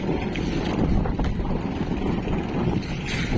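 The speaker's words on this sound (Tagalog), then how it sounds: "Malakas yung panahon ngayon mga kapising, amihan." Strong amihan monsoon wind buffets a small cargo boat carrying ice, a steady loud roar of wind noise and water rushing without pause.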